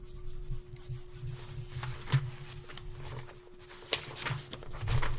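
Chalk or eraser rubbing across a classroom blackboard after a math lesson on factoring, a steady scratchy swishing with a few sharper knocks, close and continuous, with no talking.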